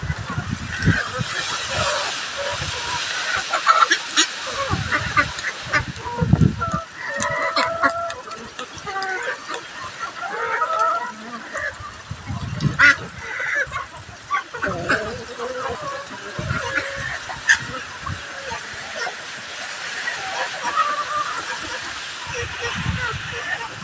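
Chickens cluck and squawk around a rural home during stormy weather, scattered close calls amid wind and rushing background noise, while someone talks over them.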